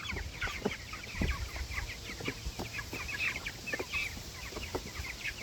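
Young meat chicks crowd together in a cart, peeping and clucking continuously at close range without pause, with no talk over them.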